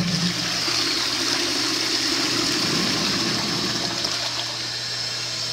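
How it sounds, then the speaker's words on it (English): An antique 1890 Royal Doulton high-tank toilet with a lead-lined tank, flushed by its pull chain, lets out a loud, continuous rushing gush of water that holds steady and eases slightly toward the end. "The chain comes down. This is what you use to flush it."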